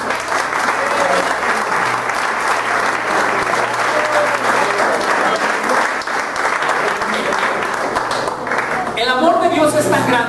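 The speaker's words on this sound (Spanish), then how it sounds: "Un aplauso a Dios." A church congregation at a Yom Kippur sermon bursts into sustained applause, a dense, loud crowd clapping that rolls on for several seconds before voices rise over it at the end.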